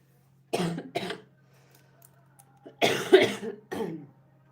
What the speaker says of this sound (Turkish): ara ara böyle öksüreceğim arkadaşlar özür dilerim.